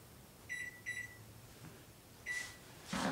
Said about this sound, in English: So I'm setting my kitchen timer to 45 minutes.